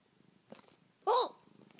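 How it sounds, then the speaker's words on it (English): A cat purring close by, a soft low rumble under quiet surroundings, broken by a short sharp meow-like cry partway through. "He's a nice kitty. He's purring."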